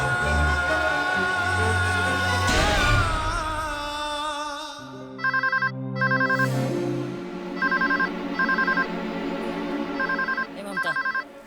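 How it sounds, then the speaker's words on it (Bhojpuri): A telephone rings in a repeating pattern of short electronic chirps in bursts, loud and near, following a stretch of voices and music. "ए ममता, देखा केकर फोन बा।"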